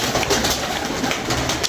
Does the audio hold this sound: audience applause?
no